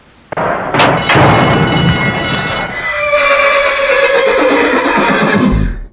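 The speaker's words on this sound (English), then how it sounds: "there's a number of horses in the parade yard behind me" Horses at a racecourse parade yard give a loud, close whinny followed by further neighing and snorting, filling several seconds with shrill, shaky calls and no talk over them.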